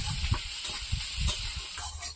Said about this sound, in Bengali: পেঁয়াজটা ভেজে নেবো, পেঁয়াজ রসুন।